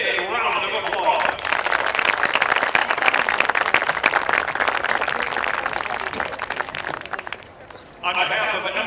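A large audience applauds the judging panel at an MSBOA band event at Vicksburg High School, a dense wash of clapping lasting several seconds, with an amplified announcer's voice just before and after it.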